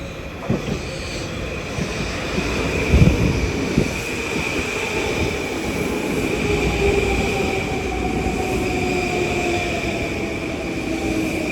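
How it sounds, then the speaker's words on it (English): A brand-new commuter train running from Penn Station to Huntington rumbles steadily past, with a deep continuous roar, rattling wheels and a faint high squeal riding over it, close and loud throughout. "we got train 1504 from Penn Station to Huntington, brand new"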